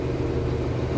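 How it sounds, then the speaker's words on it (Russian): The MAN engine of a K-700 tractor runs under throttle, a dense, steady mechanical roar heard up close for a brief moment. "Газнем. Смотрите, мановский двигатель"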